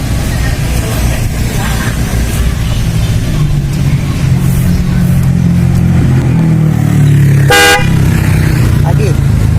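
A newly installed Denso snail car horn blasts once, short, loud and bright, over the close steady rumble of an idling vehicle engine.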